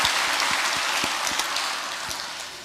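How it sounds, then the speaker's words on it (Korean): Applause from a church congregation during a Sunday worship service, a steady broadband wash of clapping that fades slightly toward the end, with scattered low thumps underneath. "우리 서로 감사의 박수를 드리도록 하겠습니다."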